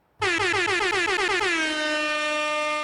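A loud, sustained air horn blast opens with a rapid stuttering pulse, then settles into a steady blaring tone that holds to the end.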